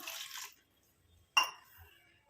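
Water is poured into a pot holding crushed onion and tea powder: a soft hiss, a pause, then a brief splash that fades into faint trickling, all quiet and close.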